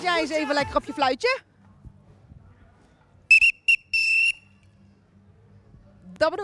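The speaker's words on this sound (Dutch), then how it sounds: "Lekker op je fluitje." A whistle is blown at a street braderie fair in Ginneken, Breda: a few short sharp shrill blasts followed by a longer one, loud and close, with someone talking before and briefly after.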